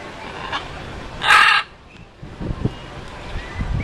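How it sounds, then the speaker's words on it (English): Lovebirds at Xel Ha give a loud, harsh burst of squawking calls about a third of a second long, followed by softer scattered chirps and handling noises close by. "They're lovebirds."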